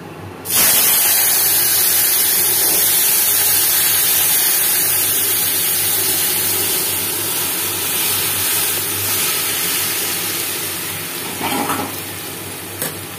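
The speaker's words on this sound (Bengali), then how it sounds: "এর মধ্যে আমি মাছগুলি ছেড়ে দেবো।" Fish dropped into hot oil in a wok, already tempered with whole black cumin, bursts into a loud, loud hissing sizzle that holds steady and slowly eases over about thirteen seconds, with a few clatters near the end and no talking.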